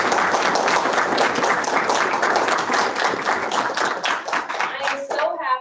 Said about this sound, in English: Can we give a round of applause to all of our speakers?